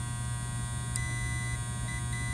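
A steady electronic tone from an electrical tester checking fuses drones continuously with a faint hum beneath, unbroken throughout, with two tiny clicks along the way.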